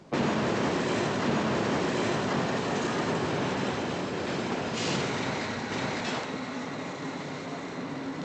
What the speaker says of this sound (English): The train was late.